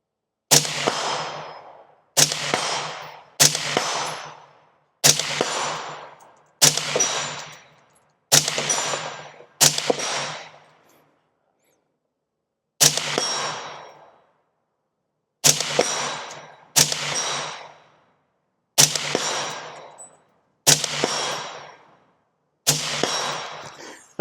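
Rifle fired at 100 yards with a budget 1-6x28 LPVO scope mounted, about twelve sharp, loud outdoor shots spaced a second or two apart, each with a quick decaying tail and a longer pause midway.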